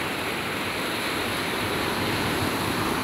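Ocean surf breaking on a beach, a steady loud roar of rushing waves with wind across the microphone, continuous throughout with no voices.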